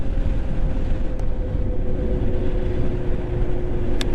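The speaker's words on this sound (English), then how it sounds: "You can even hear the engine braking here." A car engine braking, heard as a steady loud low drone from inside the car without any talk.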